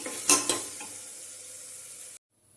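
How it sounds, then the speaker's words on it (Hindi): A spoon stirs chickpea masala in a cooking pot, with a couple of sharp scraping knocks against the metal over a soft simmering sizzle, close by, before the sound cuts off abruptly. "इसको अच्छी तरीके से मिला देंगे।"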